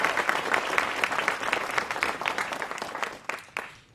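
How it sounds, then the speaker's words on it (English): Audience at a conference panel applauding, a dense, steady wash of many hands clapping close by that holds for several seconds and thins toward the end. "So one more time, just applause for the whole panel."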